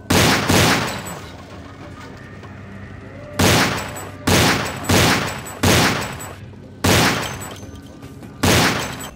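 Glock pistol fire in a video game, loud single sharp shots spaced irregularly, seven in all, each with a short decaying echo and no talk over it.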